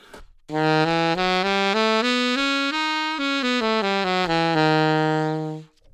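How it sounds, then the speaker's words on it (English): A keyboard instrument plays the altered scale up and back down in even, steady notes, loud and clear with no voices. "And the altered scale sounds like this."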